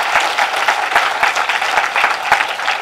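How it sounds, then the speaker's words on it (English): An audience at a panel event gives a big round of applause, a dense, steady roar of many hands clapping close by, sustained without pause for the full stretch. "give a big, big round of applause"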